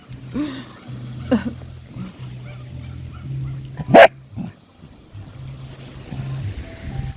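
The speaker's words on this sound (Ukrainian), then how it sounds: "Вона риє, риє, риє, риє, гавкає, щоб я закопувала." A dog digging outdoors in Odesa barks a few times, with one sharp, loud bark close by and softer yips around it, over a low steady hum.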